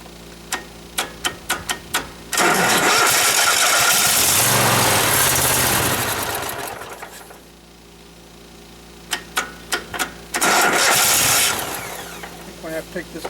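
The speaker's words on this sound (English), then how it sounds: "Give it a shot of start fluid to get her started." A Cub Cadet barn-find tractor's engine cranks on starting fluid, its loud churning rising in two long bursts between sharp clicking ticks, close by and with no talk.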